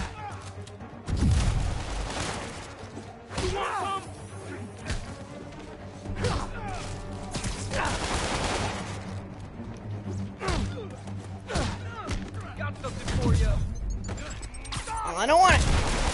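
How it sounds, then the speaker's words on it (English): Gunfire and thudding impacts from the Spider-Man video game, with bursts of shots and heavy hits scattered across the scene, mixed with voices talking throughout. "Stop shooting me!"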